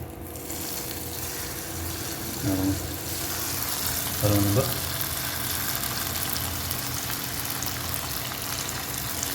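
Egg-dipped bread croutons fry in oil with a soft, steady sizzle, broken by a couple of brief clinks from the pan.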